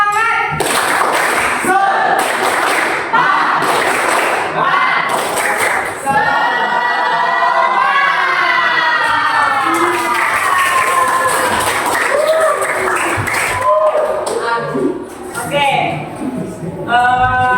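A class of students claps out the rhythmic 'tepuk semangat' pattern in a classroom, bursts of clapping mixed with group chanting, then an adult's voice talks over the last part.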